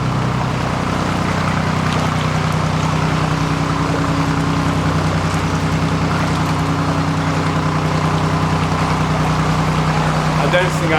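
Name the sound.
boat coming through a canal tunnel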